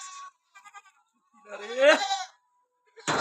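Beetal and Osmanabadi goats bleat in a quiet pen, with a short nasal call, a few faint stuttering bleats, then one long wavering bleat, closing with a brief rustling burst.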